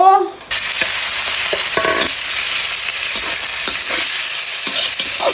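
Pork hits a hot pan with pounded chili and garlic and sizzles loudly. Stirring scrapes and clatters through the steady frying hiss.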